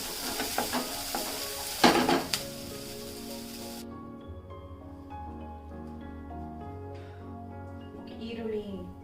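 Ingredients stir-fried in an oil-filled pan sizzle steadily, with a scrape or clatter of the spoon early on, while someone talks over the cooking.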